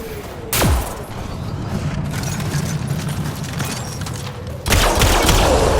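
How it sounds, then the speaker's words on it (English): Gunfire from a weapon in Mass Effect: Andromeda destroys a Kett device, with a sharp blast at the start and another burst near the end over a steady, rumbling background hum. "Shooting the device will destroy it."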